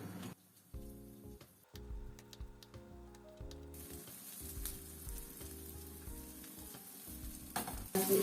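Tomatoes fry in a pan with a little oil, giving a steady close sizzle and spatter throughout, with tonal background music playing alongside.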